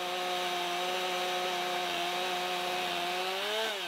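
A chainsaw on a Logosol mill drones steadily at close range, its engine holding a constant buzzing pitch while cutting through a log, with no voices.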